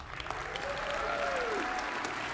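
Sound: audience applause at conference

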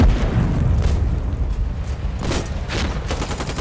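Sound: 40mm rocket fired and exploding in video game Foxhole

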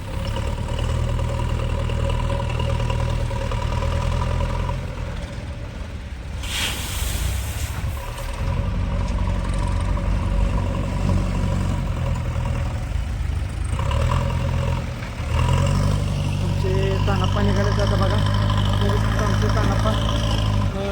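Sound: tractor engine running, hauling cut wood

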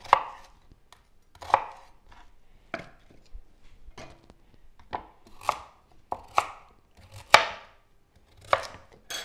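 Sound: food processor chopping onion and vegetables

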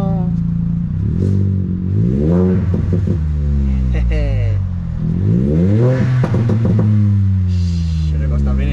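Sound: car exhaust revving

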